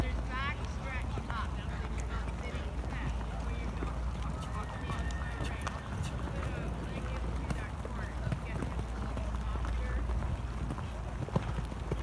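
Milo the horse canters and jumps, hooves thudding in a rhythmic clip-clop amid outdoor wind noise, with people talking over the hoofbeats.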